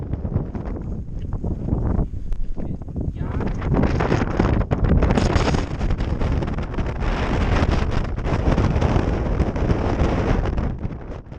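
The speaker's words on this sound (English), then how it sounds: "At this point the wind really picked up." Strong wind near a mountain summit on Poland's tallest peak, a loud continuous roar buffeting the microphone, swelling and gusting heavier partway through, with no clear talk over it.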